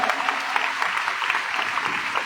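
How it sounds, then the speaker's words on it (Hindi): Hearty clapping from an assembled audience at a religious ceremony in Indore, a brief, dense burst of applause with individual claps audible, steady and fairly close throughout. "आप सभी एक बार पूरे तन्मयता के साथ पुनः चेतना मंच और पारसनाथ ग्रुप के साथियों का सम्मान करें एक बार जोरदार तालियों के साथ"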